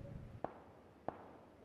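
Two sharp, faint gunshots from behind the player in the battle royale video game PlayerUnknown's Battlegrounds, evenly spaced about half a second apart and sounding distant against a quiet background.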